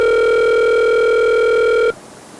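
A telephone rings with one long, loud, steady electronic tone lasting nearly two seconds, then cuts off abruptly as a voicemail line picks up, leaving quiet line noise.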